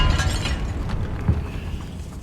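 A Confringo fire spell bursts with a loud crackling blast inside a tomb in Hogwarts Legacy, a dense rumbling, shattering roar that swells briefly near the middle before fading.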